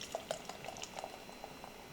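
A beer glass being filled with an 8% IPA brewed in Western Australia, fizzing and bubbling with small pops and crackles of foam, close and quiet.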